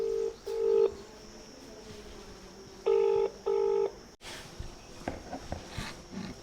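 Telephone keypad tones beep in short paired bursts with pauses between them, followed by a faint click and quieter rustling.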